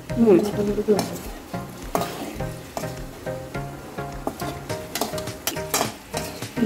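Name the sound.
masala frying and being stirred in a pan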